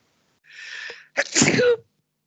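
A single loud sneeze, a sharp breathy intake followed by an explosive burst, close to the listener in an otherwise quiet room.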